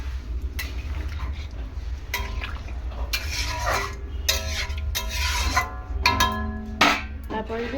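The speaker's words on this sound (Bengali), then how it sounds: "তো দেখে টমেটোগুলো এখন দিয়ে দিচ্ছি আমি ঝোলের উপরে।" Tomatoes go into curry gravy in a pan for a Bengali eggplant and fish dish, giving scraping, stirring rubs and clinks of a utensil against the pan in irregular bursts, with quiet talk alongside.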